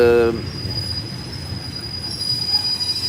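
A Thai train runs on the rails between Bangkok and Ayutthaya, a brief tonal horn or squeal at the start giving way to a steady rumbling roll with a thin high wheel squeal sustained above it.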